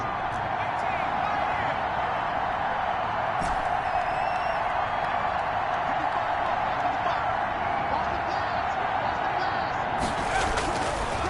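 Stadium crowd in a PS4 football video game, a steady dense roar of cheering that swells and holds for the whole stretch, loud and continuous with a brief sharper burst near the end.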